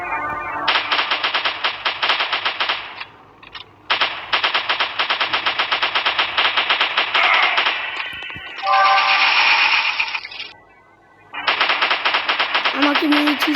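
Rapid automatic gunfire from a video game weapon, long sustained bursts of sharp repeated shots with brief pauses between volleys, loud and close.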